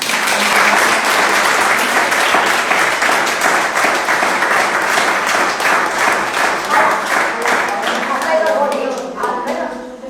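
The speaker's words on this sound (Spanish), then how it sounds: "Un aplauso muy grande para ellos." A book-launch audience in Marín applauds the authors of the novel "El Pazo de Lourizán", a full, sustained round of clapping that gradually thins toward the end as voices begin to emerge.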